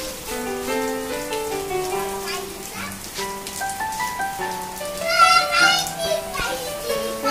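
Rain falls steadily during heavy monsoon flooding, a soft constant patter beneath frequent nearby talk and children's voices.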